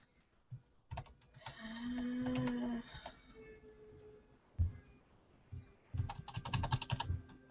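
Short bursts of computer keyboard typing for a social media post, quiet and close, with clicky key taps, a pause, then a faster run of keystrokes at the end.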